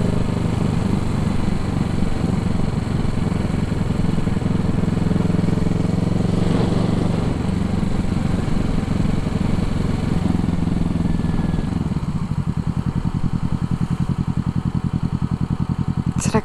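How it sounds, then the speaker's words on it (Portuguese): A Kawasaki Ninja 650 motorcycle engine runs steadily close by with a deep, rumbling exhaust burble, shifting to a choppier idle near the end. "Será que o som do meu escapamento incomoda as pessoas?"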